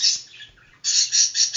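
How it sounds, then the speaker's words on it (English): Lovebird chirping up close in a home setting: a quick run of bright, high chirps, a short lull, then a louder, busy burst of rapid chirping with no talk. "lovebirds are noisy but not loud"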